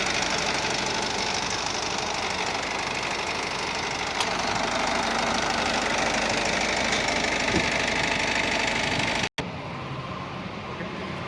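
A 2018 Honda WR-V i-DTEC diesel engine idles with a steady, fairly quiet clattering hum and even vibration, interrupted by a brief dropout near the end.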